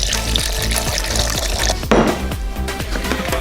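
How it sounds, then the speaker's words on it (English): Water splashes and gurgles as it pours into a blender holding walnuts, a busy, irregular stream with a sudden louder gush midway, no talking. "Add some water."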